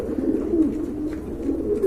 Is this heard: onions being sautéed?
no